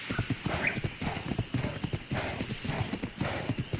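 Horses galloping in Ark: The Lost Island, rapid rhythmic hoofbeats pounding close and loud with a whinny breaking through, a voice faintly present underneath.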